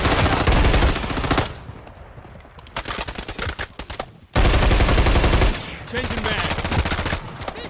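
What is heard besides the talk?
gunfire in Call of Duty video game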